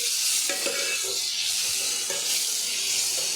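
Food with coriander powder and salt being stirred in a hot pan for a potato and bitter gourd curry, a bright continuous sizzle with a few soft scraping strokes, close and steady.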